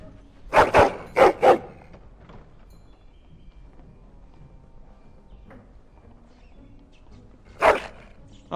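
A hound barks in the Dragon Age video game, first four loud, close barks in quick succession, then a long quiet stretch with faint sounds before another single bark.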